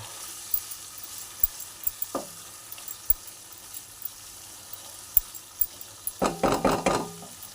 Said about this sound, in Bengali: একটু হালকা জল দিয়ে মশলাটাকে ভালো করে মিশিয়ে নেব